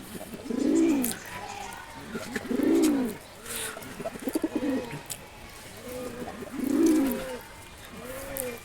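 Several deep, throaty coos from large caged pigeons repeat in a slow rhythm, close by, with faint rustling and scattered chirps between the calls.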